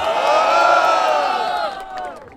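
A rap battle crowd at Batalha da Aldeia roars and cheers for the rapper JP, a loud, dense wall of shouting and whooping that swells and then fades.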